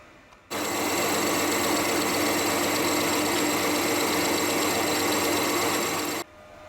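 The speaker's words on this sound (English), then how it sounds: "now we'll bore out the inside so that it slips over the bush that we need to press out" A lathe bores out the inside of a steel tube sleeve, a steady, even machining whir that starts abruptly, runs unchanged for about six seconds, then cuts off, with no talking.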